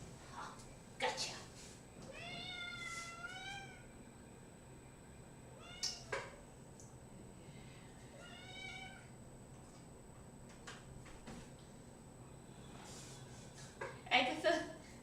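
A cat meows twice, long drawn-out cries a few seconds apart, with a person talking quietly around them in a calm room.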